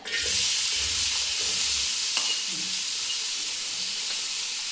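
Onions are added to a hot pan with green chillies and stirred. A loud, steady sizzle and hiss runs throughout, with soft scraping from the stirring.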